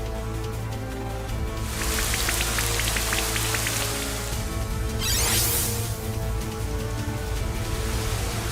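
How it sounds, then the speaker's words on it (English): Steady video-game rain pours in Pokémon Shining Pearl as a constant loud hiss, joined partway by a brief run of chiming tones and a swelling whoosh. "The fact that it is raining in some strange space is weird."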